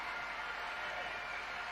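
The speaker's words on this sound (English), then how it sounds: "So he takes a round of applause after a good performance" A basketball crowd applauds a player leaving the court: steady, distant clapping that stays even throughout, faint under the arena ambience.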